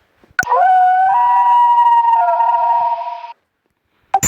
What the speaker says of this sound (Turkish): Bu az önceki kurt ulumasının uzun versiyonu biraz.